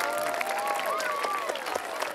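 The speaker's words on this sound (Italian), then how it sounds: "Eccoci qua, fatto ancora un applauso!" Sustained applause from a crowd at the opening evening of a parish youth summer camp in Cormòns, a dense, even wash of clapping with a few whistle-like tones gliding through it.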